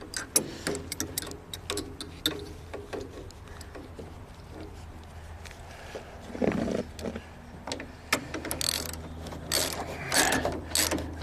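A crescent wrench cranks bolts to tighten steel brackets on trailer wall framing, giving a run of close, sharp ratcheting clicks and metallic taps with bursts of louder clanking toward the end.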